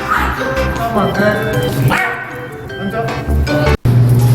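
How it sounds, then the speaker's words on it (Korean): A young puppy, about six weeks old, yips and barks at a dog cafe, loud and close, in quick bursts among other dog noises and whimpers, continuing through the whole stretch. "새끼 강아지예요"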